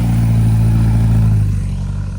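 An MGA classic British sports car pulls away close by, its mid-pitched engine humming steadily and loud, then gradually fading as it drives off.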